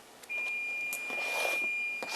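A kitchen timer beeps as cooking goes on, holding one steady high electronic tone for about two seconds over clattering and rustling in the kitchen.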